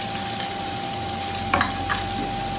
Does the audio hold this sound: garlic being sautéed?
yes